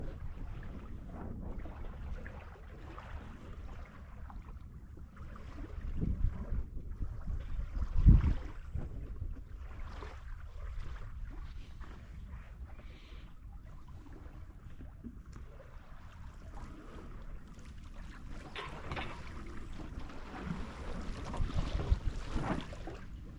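Wind rushing past a sailboat under sail on a solo passage to Catalina Harbor, a steady low blustery roar with gusting swells and faint water wash, no voices.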